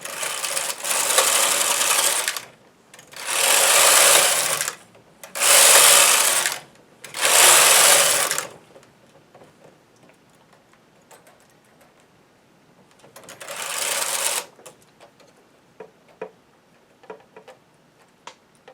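A knitting machine carriage runs rows of scrap yarn across a mock rib hem in four loud, close sweeps with short pauses, followed by quieter ticks and clicks, and then one more pass.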